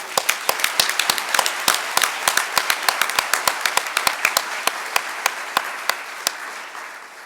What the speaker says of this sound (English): if you all would join me in just giving a huge round of applause to the work you've done